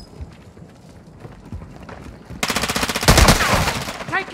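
Bursts of automatic gunfire in the Warzone 2 video game on Ashika Island in Resurgence quads mode, loud rapid shots erupting after quieter ambient movement, with a sharp rattling volley near the end.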